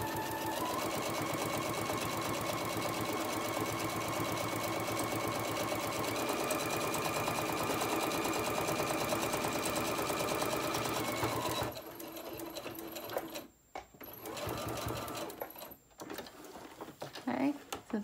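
A sewing machine back stitches through sturdy interfacing on a lunch tote bag, running in one long, steady, close whir before breaking into short stop-start bursts with brief silent gaps.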